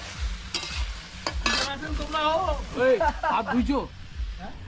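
Duck meat sizzles and is stirred in hot oil at an outdoor winter picnic, steady frying with scraping strokes under nearby people talking.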